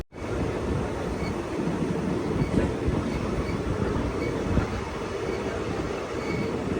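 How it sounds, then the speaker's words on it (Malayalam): A passenger train running from Kannur toward Cheruvathur pulls into Kannapuram railway station, a steady rumble of wagons rolling along the rails with faint clatter, heard from on board with no one speaking. "കണ്ണപുരം റെയിൽവേ സ്റ്റേഷനിലേക്ക് ട്രെയിൻ എത്തിക്കൊണ്ടിരിക്കുകയാണ്"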